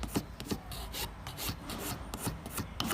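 Steady hand filing or sawing on an acrylic amulet case, a continuous rasping scrape with repeated strokes in an even rhythm, close and moderately loud with no voices.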